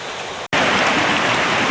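A rain-swollen creek rushes under a bridge in a loud, steady roar of turbulent water, briefly cut off for an instant before continuing close and unbroken.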